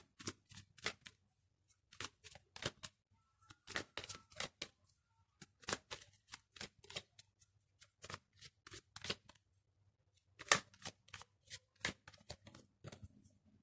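Tarot cards are shuffled and drawn in quick, crisp bursts of riffling and slapping, close and clear, repeating in uneven clusters with short pauses between.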